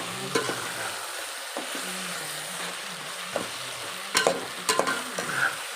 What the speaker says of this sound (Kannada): ಮೊಸರು ಹಾಕ್ಬಿಟ್ಟು ಚೆನ್ನಾಗಿ ಮಿಕ್ಸ್ ಮಾಡಬೇಕು